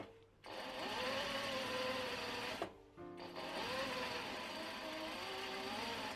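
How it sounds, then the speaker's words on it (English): Sewing machine stitching the side seams of a fabric handbag with a 1 cm seam allowance, a steady, fairly quiet whirring run that pauses briefly midway and then continues. "So let's go and sew the side seams down."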